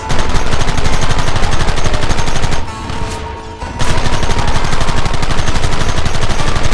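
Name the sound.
gunfire in a Red Dead Redemption 2 shootout, video game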